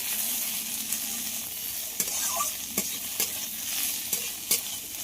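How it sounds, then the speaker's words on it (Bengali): Bitter gourd frying in a pan gives a steady close sizzle with occasional stirring scrapes and clicks through the whole stretch, no talking. "উচ্ছেটাকে খুব ভালোভাবে ভেজে নেব।"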